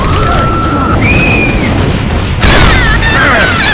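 Gunfire crackles through Left 4 Dead 2's Dark Carnival fairground level, a dense wash of shots with a sharper burst about two-thirds of the way in, mixed with other game sounds and voices.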